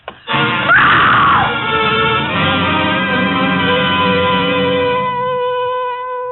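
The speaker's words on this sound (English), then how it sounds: "It was a good loud scream." A woman's loud, sustained scream in an old-time radio drama, starting abruptly, holding one long piercing cry for several seconds, then easing slightly while still ringing on.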